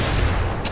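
Explosions go off in the Dying Light video game as a dense, continuous rumbling blast that fills the whole short moment with loud, booming noise.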